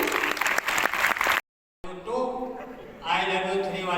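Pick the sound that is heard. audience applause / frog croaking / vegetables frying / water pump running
audience applause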